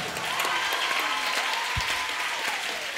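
Steady audience applause at a live Icelandic comedy show, a dense crowd clapping continuously throughout at moderate level, with a faint voice beneath.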